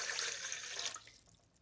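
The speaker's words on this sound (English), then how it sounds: "So I'm going to take that water and I'm putting it right into the bowl." Water pours into a bowl for pizza dough, a close, bright splashing rush for about a second that quickly fades to quiet.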